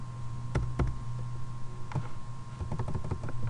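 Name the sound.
typing on a computer keyboard while writing JSP code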